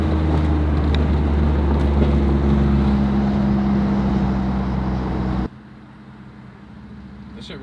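Loud, steady engine roar from a Ford F-150 Raptor fitted with full bolt-on upgrades as its tires spin, running continuously for about five seconds before cutting to a quieter rumble with heavy wind buffeting.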